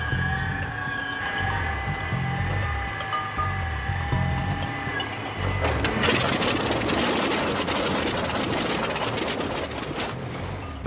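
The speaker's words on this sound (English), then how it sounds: "As with many World War II-era aircraft, starting the engine cold is a haphazard and messy affair." World War II-era aircraft engine starting cold, with a rough low rumble and whine that then catches into a louder, broadband roar about halfway through, close and continuous.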